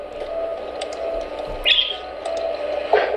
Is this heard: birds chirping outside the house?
yes